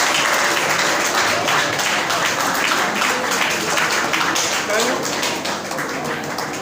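A crowd at a founder's day gala award night claps and applauds loudly and continuously, a dense wash of hands with voices mixed in underneath.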